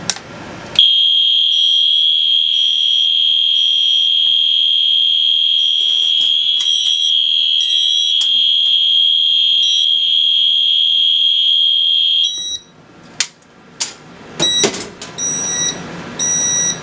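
A loud, steady electronic alarm tone from a Wheelock MIZ fire alarm horn blares continuously for about eleven seconds, then cuts off, followed by a few sharp clicks and knocks.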